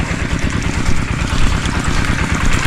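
A farm engine starts and idles on test, a steady loud low rumble with a rapid clattering pulse that runs unbroken from start to end.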